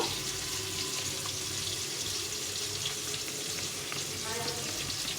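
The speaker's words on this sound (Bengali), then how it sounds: "টমেটোটা ভাজা হচ্ছে" Tomato frying in a pan during preparation of a cauliflower, pea and paneer dish, a continuous soft sizzle and crackle with faint stirring, steady and fairly quiet throughout.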